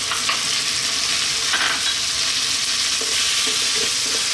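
Tomatoes sauté in a hot pan with onion, giving a continuous loud sizzle and frying hiss, broken by occasional soft scrapes and taps of stirring.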